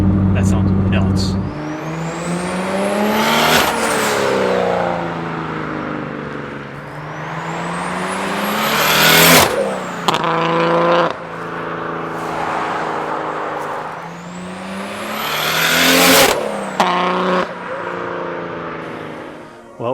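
BMW N54 engine with a Doc Race single turbo kit accelerating hard through several gears, each pull rising to a loud scream before a shift drops the pitch, with turbo whoosh on the shifts and voices talking underneath.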